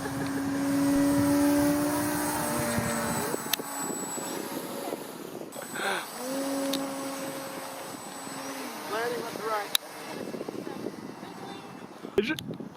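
An RC airplane with blue or purple lights flies at night, its propeller engine buzzing with a whine that rises and falls as it passes, over an outdoor background.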